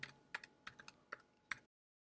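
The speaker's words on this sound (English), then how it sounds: "So I'm just going to go ahead and type that in now." An amount is typed on a computer keyboard in a handful of quiet, close, irregular key taps for about a second and a half, ending in silence, with no voices.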